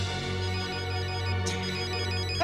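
A mobile phone ringtone plays in an animated Winx Club episode, a steady, loud electronic melody looping over a low background hum, with no talking.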